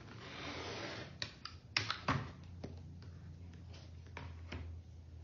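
Scissors or a cutter slice through basket lining fabric against a ruler, making a few sharp crisp snips and clicks over a quiet background.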